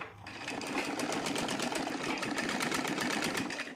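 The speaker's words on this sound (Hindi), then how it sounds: "अब इसे हम सिलाई करना शुरू करेंगे।" A sewing machine runs steadily, stitching the hem of a heavy silk saree with a fast, even mechanical chatter that is close and continuous, with no speech.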